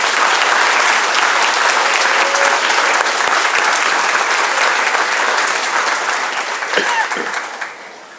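Loud, dense clapping from an audience at a sixth grade awards ceremony honoring students, sustained throughout and tapering off near the end.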